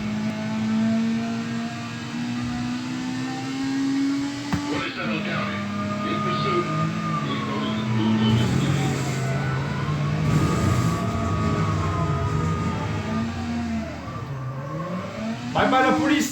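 A car engine drones and revs as it is driven in a video game with police nearby, its pitch rising and falling through gear changes while someone talks over it.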